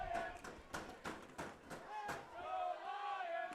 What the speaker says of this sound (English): You can hear the raucous student sections from both squads cheering back and forth at each other as Cecilia Wager lines up for this free kick